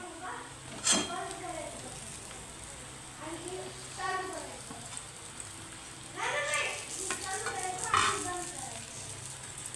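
Brinjal pieces being fried and stirred into a spicy masala in a pan for a Maharashtrian vangyachi bhaji, with a steady low sizzle and occasional spoon scrapes while a voice talks over it.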